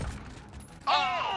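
A gun fires in the Modern Warfare video game, a single sharp report with a ringing, ricocheting tail, preceded by faint muffled rumbling and soft background voices.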